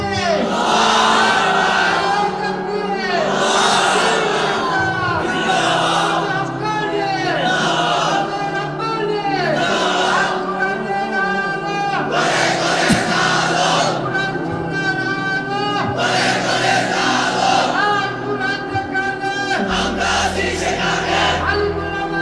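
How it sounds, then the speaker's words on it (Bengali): Large crowd at a Ramadan religious sermon gathering chanting slogans and takbir in loud rhythmic call-and-response bursts, repeated waves of massed voices throughout. "তোমরাই স্লোগান দাও, তোমরাই তাকবীর বলো"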